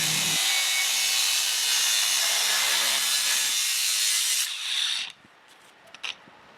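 A Dewalt FLEXVOLT 54V DCG414 brushless 125mm cordless angle grinder grinds hard and loud, a steady, sustained rasp for about five seconds before cutting off, followed by a few faint clicks and knocks.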